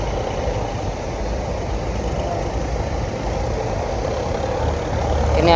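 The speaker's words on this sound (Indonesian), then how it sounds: "Akas 4. Suara knalpotnya beda." An Akas bus idles at a busy Surabaya bus terminal, its exhaust giving a steady, throaty engine drone that grows slightly louder toward the end.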